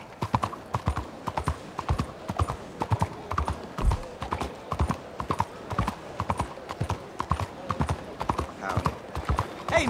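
Horse hooves clip-clopping at a steady, rhythmic gait in Red Dead Redemption 2, loud and close throughout with a brief whinny and faint game voices underneath.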